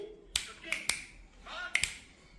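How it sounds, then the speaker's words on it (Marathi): Several sharp finger snaps, close and crisp, coming in irregular pairs with short gaps, while a child and an adult talk softly around them. "अशी चुटकी वाजवता येईल ना तुला"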